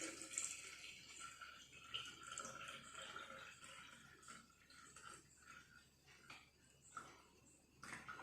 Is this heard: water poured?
yes